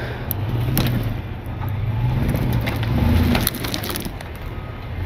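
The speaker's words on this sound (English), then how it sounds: "We can even drive this one over that rock yeah." A Toyota off-road vehicle crawls over a rock, making loud, close crunching and grinding of tires on stone over a low engine rumble, with a sharp drop after a few seconds.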